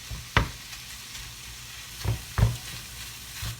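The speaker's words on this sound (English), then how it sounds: "we're just going to cook this just like you would any ground beef or ground meat. Kind of chopping it up as we go." Ground sausage frying in a pan sizzles softly under a few sharp scraping knocks as a utensil chops it up, three distinct strikes spaced across a few seconds.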